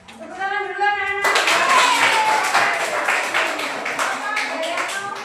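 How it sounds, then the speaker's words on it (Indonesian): Schoolchildren in a classroom clap their hands together in a quick, rhythmic burst, loud and close, following a brief voice at the start. "Tepuk tangan dulu anak-anak."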